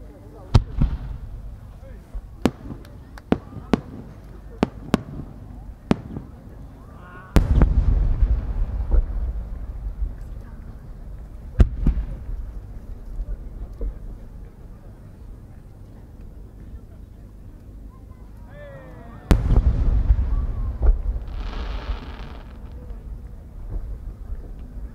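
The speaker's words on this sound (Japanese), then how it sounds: "新入割物の上り曲道付き四重芯変化菊" Fireworks display at the 2018 Omagari fireworks competition in Japan, a four-core changing chrysanthemum shell by Niigata Enka: scattered sharp distant bangs and crackles, then two louder booming bursts with rumbling tails, crowd murmur and wind beneath.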